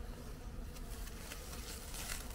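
Honeybees buzz at a beehive in a spring apiary in Artvin, a faint, continuous hum of many insects under a steady outdoor background noise, with no talking.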